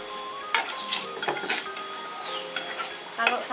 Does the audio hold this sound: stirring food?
yes